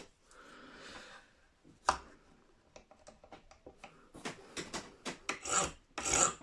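Wood being filed down by hand during setup work on a 1994 Gibson Gospel acoustic guitar, heard as a series of short, close rasping strokes that grow louder and faster toward the end, with no talking.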